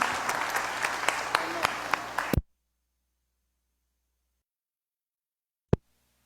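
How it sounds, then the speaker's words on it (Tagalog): Congregation applause at a church service, steady dense clapping for a couple of seconds before cutting off abruptly into silence, with a brief thump near the end. "Palakpak po sa Panginoon"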